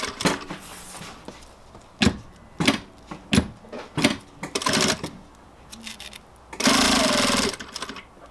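A sewing machine stitches leather sandals with bonded nylon thread. It runs in short, loud mechanical bursts separated by pauses, then makes one longer sustained run near the end.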